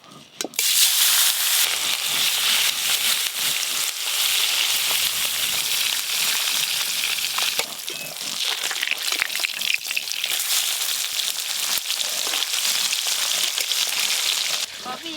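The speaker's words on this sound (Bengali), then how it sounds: "দাদু যেন প্রথমে এই ফেসা মাছগুলো ভেজে নেব।" Phasa fish frying in a pan gives off a loud, steady, dense sizzle that carries on without a break, with light crackling, a few short dips in level and some faint voices in the background.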